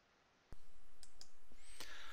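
A single sharp mouse click on a computer, followed by a few lighter clicks and faint taps, close and clear against a quiet room hum.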